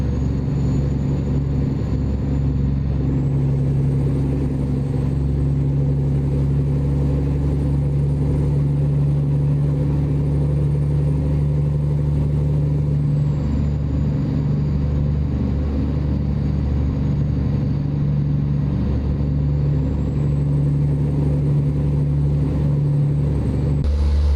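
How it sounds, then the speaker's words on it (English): A truck engine in American Truck Simulator drones at a steady, low idle-like hum, with a constant deep tone and no clear revving for the whole stretch, loud and close with no voices over it. "just the way the engine sounds itself, it's like bleh"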